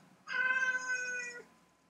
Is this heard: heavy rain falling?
no